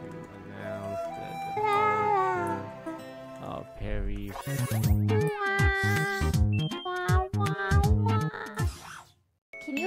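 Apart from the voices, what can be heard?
cat meowing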